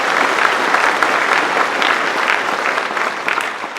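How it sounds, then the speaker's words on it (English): Audience applause at a beef sustainability roundtable conference: a loud, dense, continuous burst of clapping from a large crowd that holds steady for several seconds without any speech. "give yourselves a round of applause"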